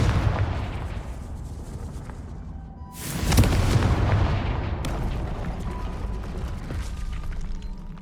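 The Confringo blasting spell goes off in Hogwarts Legacy as a loud explosive burst over a busy rumbling game soundscape, then a long crumbling, debris-filled roar. No one speaks.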